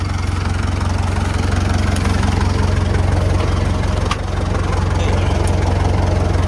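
A tractor engine idling at a river cabin site, a loud, steady low-pitched diesel rumble with an even pulse, close and constant with one brief dip.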